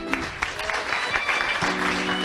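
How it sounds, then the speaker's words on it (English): Applause from a live talk-show studio audience, a dense, steady wash of clapping that lasts the full stretch, with a brief voice breaking through near the start. "Everybody clap."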